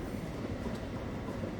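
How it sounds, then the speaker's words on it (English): Train rumbling steadily past at close range, a dense continuous roar of wheels and cars with faint clatter throughout, no voices. "that was not our train."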